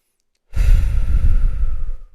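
One slow, relaxed breath let out close to the microphone: after a moment of silence, a long soft exhale trails off gradually, with nobody talking.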